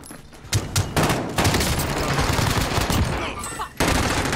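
Video game gunfire in a shooter match, loud sustained automatic bursts broken by brief gaps and resuming abruptly, dense rattling shots up close.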